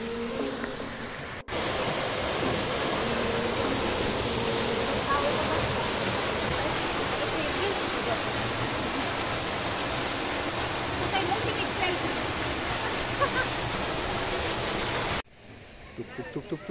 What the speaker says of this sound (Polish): Na wodospad, tutaj Karolina mówi, że ten jest mały, może być jeszcze większy